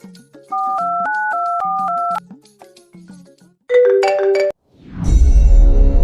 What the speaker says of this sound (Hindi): लो जी भी कर रहा फोन।